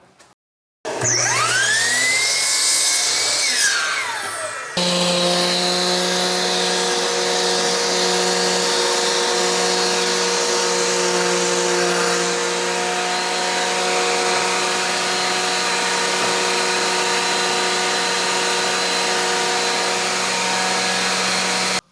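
A power sander works over pine boards for a porch swing, a loud continuous whirring drone with steady tonal hum, preceded by a shorter burst of a different whining tool.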